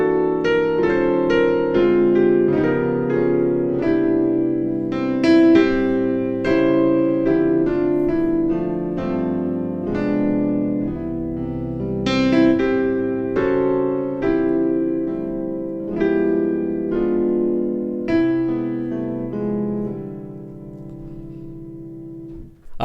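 A jazzy Christmas intro on solo piano, played as rich sustained chords with a melodic line on top, steady and close, with no talking.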